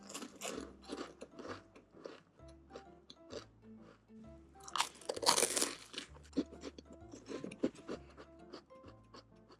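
Crisp, crackly bites and chewing of a salted pastry from a Korean convenience store, a flaky pastry brushed with a sweet syrup glaze and sprinkled with salt. The crunches are close and repeated, with soft background music underneath.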